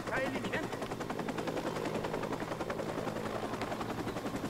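Helicopter rotor drone from Watch Dogs on PS4, a steady low thrum running throughout beneath dense bursts of game gunfire and explosions.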